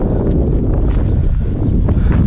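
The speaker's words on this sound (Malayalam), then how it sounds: "നല്ല കാറ്റുണ്ട് ഇവിടെ നല്ല തണുത്ത കാറ്റാണ്" Strong cold wind buffets the microphone with a loud, continuous rumbling roar, steady and close throughout, at the Wadi Al Helo archaeological site.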